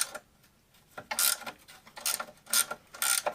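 Ratchet clicking in short bursts while tightening a front A-arm bolt on a 2006 Polaris Sportsman 700 ATV, about four separate runs of close, crisp ratcheting with brief pauses between.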